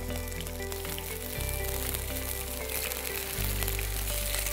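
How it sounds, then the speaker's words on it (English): Garden egg sizzles steadily in hot oil, a constant crackling fry with faint clinks of cooking in the background. "while I'm frying the garden egg"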